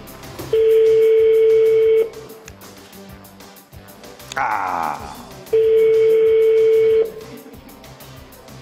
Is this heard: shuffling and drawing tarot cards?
no